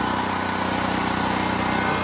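Generac XT8000E home generator engine running steadily right after an electric start, a loud close rhythmic mechanical drone with a steady firing pulse and no talking.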